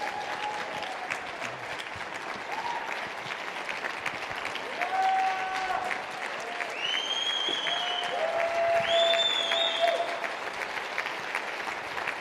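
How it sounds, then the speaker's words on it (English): Steady audience applause at a nutrition club business training event, dense clapping mixed with a few shouts and whistles, fairly distant and sustained for several seconds. "So give a big round of applause for the company."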